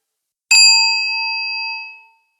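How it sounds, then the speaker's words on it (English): A small hand bell struck once, a bright clear ding ringing out alone and fading over about a second and a half in a quiet room. "I'm going to ring my little bell"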